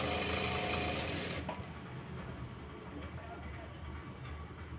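A large sewing machine stitches a blouse, running loud and close with a rapid mechanical whir for the first moment, then fading to a quieter hum while a person speaks.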